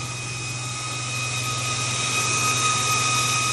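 A SPRITECH portable PCP air gun compressor runs with a steady, loud mechanical drone and a thin high whine, constant throughout with no talking.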